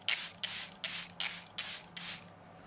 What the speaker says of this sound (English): lightly go over with something like the Charlotte Tilbury setting spray